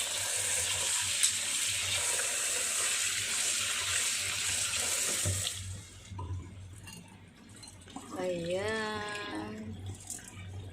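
Tap water runs steadily into a sink as red beans, lotus root and mung beans are rinsed. The water rushes for several seconds, then stops, leaving faint handling noises and a brief voice.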